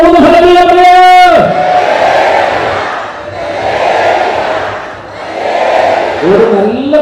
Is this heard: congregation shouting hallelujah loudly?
yes